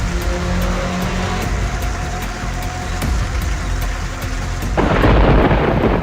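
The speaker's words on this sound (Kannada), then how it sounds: "ಹಲವು ಗ್ರಾಮದಲ್ಲಿ ಗುಡುಗು ಸಹಿತ ಮಳೆ ಅಬ್ಬರಿಸಿದೆ" Thunder rumbles through a heavy downpour of unseasonal rain over Karnataka villages; rain roars steadily and loudly throughout, then intensifies into a harder hiss of pouring rain near the end, with no voices.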